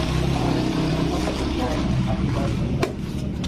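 A Yamaha Nmax scooter engine runs close up, its CVT rattling noisily from faulty rollers: a loud, continuous mechanical drone with a constant grinding texture and a brief sharp click near the end.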